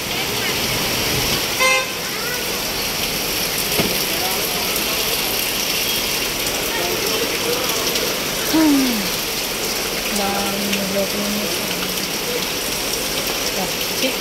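Steady hiss of heavy rain pouring down in Manikonda, Hyderabad, with floodwater rising, a few brief tonal chirps and a short mechanical whine breaking through.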